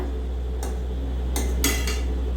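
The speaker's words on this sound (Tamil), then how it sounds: "மறுபடியும் அந்த வெங்காயத்தை அது மேலே போட்டு பெரட்டி விடுங்க" Eggs and onion are stirred in a pan, giving a few quick metallic scrapes and clinks over a steady low hum.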